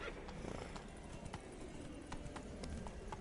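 Horse hooves clip-clopping at a gallop in The Witcher 3 as Geralt rides Roach, a quiet rhythmic run of hoofbeats over a low rumbling game background, with no clear speech.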